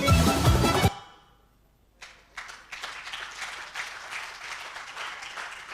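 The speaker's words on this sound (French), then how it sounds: "Je suis heureux que ces images vous arrachent des applaudissements" Audience applause at the ASCOM 2022 awards ceremony, a dense patter of clapping hands that rises after a loud opening burst and a short lull, then holds steady at moderate distance.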